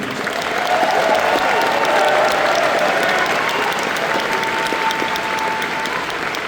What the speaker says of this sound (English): So please give a big round of applause to the entire city.